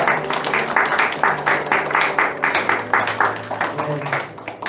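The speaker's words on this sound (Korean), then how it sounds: "우리 한 해 동안 수고했다고 서로를 보면서 격려의 박수를 좀 보내드리는 것 같습니다" Encouraging applause from a church congregation at a year-end service, moderate clapping in uneven bursts over a low background hum, fairly close.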